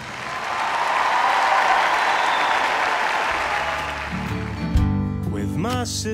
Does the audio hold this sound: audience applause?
yes